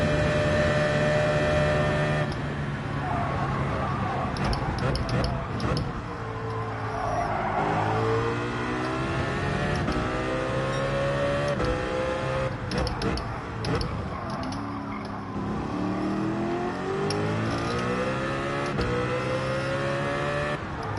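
Race car engine in Gran Turismo 7 revving hard through rising and falling gear sweeps, loud and continuous, with tire noise and a voice talking over it.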